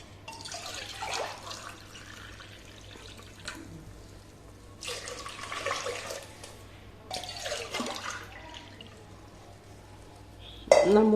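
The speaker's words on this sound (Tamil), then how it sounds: "நான் 3 உலக்கு தண்ணி ஊற்றுறேங்க." Three measures of water are poured into a pot of rice in a home kitchen, three separate splashing pours spaced a couple of seconds apart, close and moderately loud, ending with a sharp clink.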